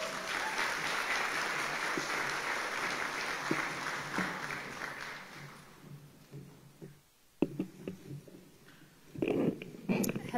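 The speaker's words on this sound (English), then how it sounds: "Everybody, big round of applause for Nicole." A crowd at a service dog graduation ceremony claps, fairly soft and distant, the applause fading over about six seconds into quieter room noise with scattered sounds.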